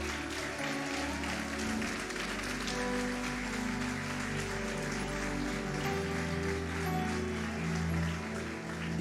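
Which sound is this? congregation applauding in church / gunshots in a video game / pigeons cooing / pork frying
congregation applauding in church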